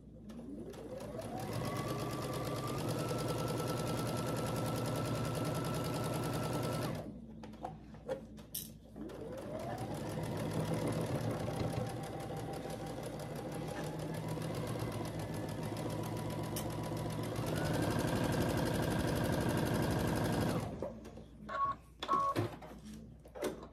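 A sewing machine stitches a quarter-inch seam on a pinwheel quilt block, running in long steady bursts that rise in speed, separated by short pauses with small clicks.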